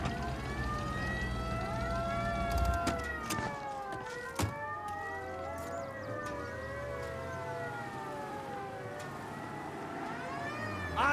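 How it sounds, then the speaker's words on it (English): Several police car sirens wail together during a car chase in the Mafia: Definitive Edition video game, their rising and falling tones overlapping continuously, loud and close over engine rumble with a couple of sharp knocks. "Ignore the sirens."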